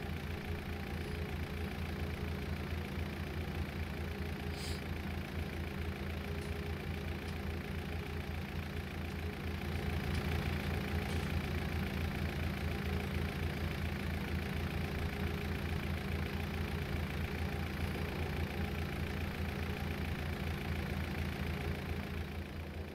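A tractor engine idling in Farming Simulator 2019, a steady low mechanical drone with a faint rhythmic pulse, running evenly throughout and rising slightly in level partway through.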